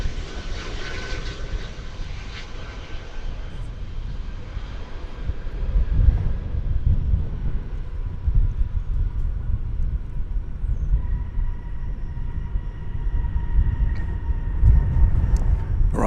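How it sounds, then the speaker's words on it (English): An American Airlines Airbus A319 arriving at DFW Airport, its jet engines a broad, steady roar that swells and rumbles through the middle and stays strong to the end, heard from nearby on the ground. "Arriving from Grand Rapids, Michigan with the airport code GER, Flight 1561, American Airlines, an Airbus A319."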